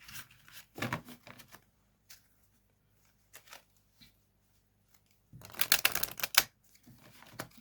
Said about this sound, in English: I will give it another shuffle, just to be on the safe side.